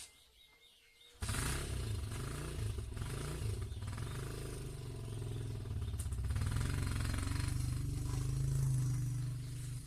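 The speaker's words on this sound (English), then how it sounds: "That distinctive noise is from my dad's motorcycle." Dad's motorcycle, still running its 1986 exhaust, starts up abruptly and then holds a steady, rumbling engine note with a rattly texture, close by and continuous, with faint chirps in the background.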